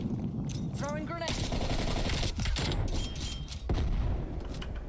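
Dense video game gunfire with a grenade blast, loud and continuous across the clip, with a burst of rapid shots and heavy thumps layered throughout.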